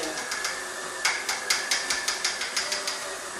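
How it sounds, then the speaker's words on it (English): An electric mixer kneads homemade bread dough enriched with milk, giving a steady run of sharp, evenly spaced clicks and knocks with a constant mechanical whir beneath, close by and with no one talking. "I speed up the speed of the mixer"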